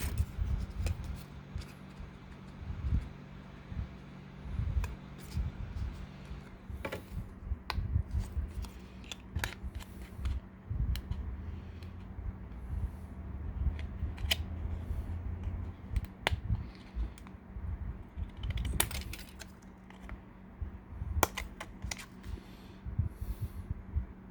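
Scissors cut a small piece for a Titanic wreck model diorama, making scattered sharp snips and clicks spread over a quiet background, close and fairly faint.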